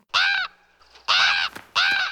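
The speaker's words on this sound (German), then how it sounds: "Kaum hat er das gesagt, hat man ein Schwirren in der Luft gehört und es gibt Krächzen." Ravens cawing in three loud, harsh bursts, each about a third of a second long, with a fainter whirring flutter of wings between them, close and without any speech.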